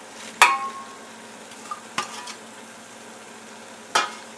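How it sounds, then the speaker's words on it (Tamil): Mint and coriander leaves are stirred into frying paneer biryani in a pot, with a soft sizzle under a few sharp metal scrapes and clinks of the spoon against the pot, spaced a second or two apart. "இதை நல்லா கிண்டி விட்டுக்கலாம்."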